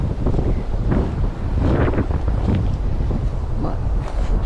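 Strong wind buffets the microphone on the Joe Batt's Arm trail on Fogo Island, a loud continuous low roar with gusty swells, while a person speaks intermittently over it.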